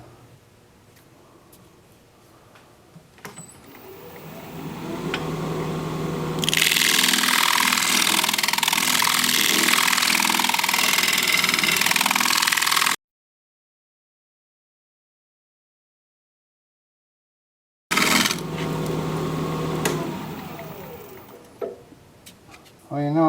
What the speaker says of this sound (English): I'm going to do a little more scraping over here.